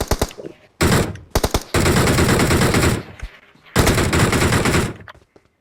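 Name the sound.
gunfire in the video game PUBG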